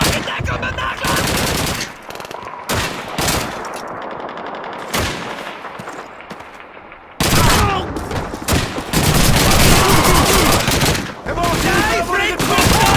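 Heavy sustained gunfire from Call of Duty 2, a World War II shooter, with dense machine-gun bursts and rifle shots hammering in near, loud waves that briefly thin out and then surge back.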